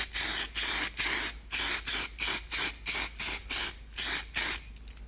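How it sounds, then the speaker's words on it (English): Primer sprays in short bursts onto a car's lower quarter panel during rust repair on a Chrysler AP6 Valiant, about a dozen hissing blasts in an even rhythm, close and loud. "So just put some primer over it to seal her up."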